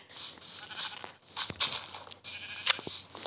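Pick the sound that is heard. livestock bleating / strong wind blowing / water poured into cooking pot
livestock bleating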